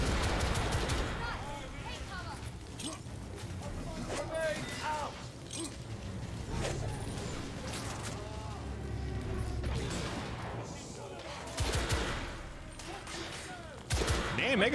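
In The Order: 1886, a grenade blast and bursts of gunfire crack and thump through a busy combat scene, mixed with game voices and mechanical clatter, with louder hits toward the end.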